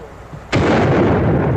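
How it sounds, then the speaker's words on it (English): A single loud, close rifle blast from a Sharps buffalo gun in an old Western setting, a sharp crack that rolls into a long sustained boom lasting over a second, with no talk. "Dorothy, that shot comes in the direction I thought it did."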